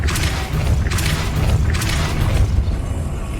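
Depulso spell cast in the video game Hogwarts Legacy, a series of booming magical bursts with bright crackling attacks repeating about every second over a dense rumbling game soundscape, no talk.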